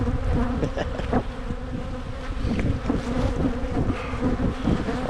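Honeybees swarm and buzz loudly around an opened hive in January, a dense, continuous drone with individual bees whining close past the microphone.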